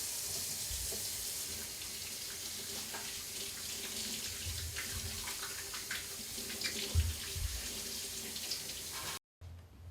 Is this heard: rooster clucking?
no